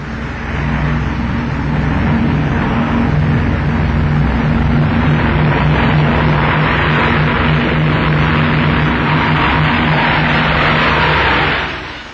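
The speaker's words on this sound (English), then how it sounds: "two pilots and eight engines take this strange double plane into the air" Eight-engined Short Mayo Composite double plane, two aircraft joined together, taking off with a loud steady roar of engines that holds throughout and fades slightly at the end.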